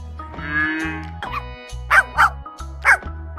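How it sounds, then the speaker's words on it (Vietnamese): A puppy gives a few short, sharp barks and yips, three distinct bursts close together near the end, over a steady rhythmic music beat. "Chú chó con."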